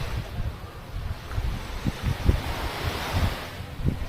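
Ocean waves wash onto the beach at Anda, Bohol, a steady loud surf with rolling swells and gusts of wind buffeting the microphone, with no voices.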